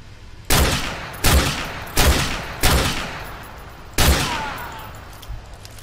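Gunfire in the video game Call of Duty Modern Warfare 2 Remastered, five loud single shots at irregular intervals, each with a sharp crack and a ringing decay, no talk.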